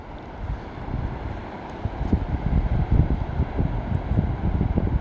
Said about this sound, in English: That roar is the next part of the wake.